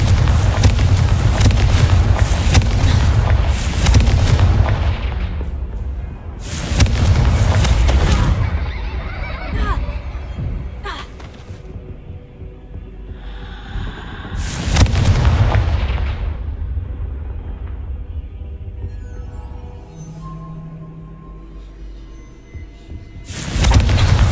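Confringo fire spells explode in Hogwarts Legacy as a series of loud, booming blasts in separate bursts, each with a rumbling tail that fades between casts.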